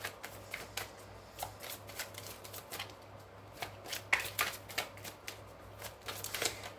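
Tarot cards are shuffled by hand for a reading, giving repeated crisp riffling bursts and soft card slaps in an irregular rhythm. Close and fairly quiet, with no talk.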